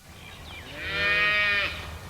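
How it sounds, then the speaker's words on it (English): A calf's drawn-out moo rises and swells to a loud peak before tapering off, a single sustained call heard close by. "They're calves, aren't they? Baby cows."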